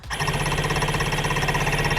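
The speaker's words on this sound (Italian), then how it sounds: "il motore d'avviamento fa girare il motore senza dare corrente alla candela, così da svuotare l'acqua." A Jetsurf Race DFI 2023 motorized surfboard engine is cranked by its starter motor with no spark to the plug to clear water, a loud, close, rhythmic mechanical churning that starts abruptly and pulses evenly.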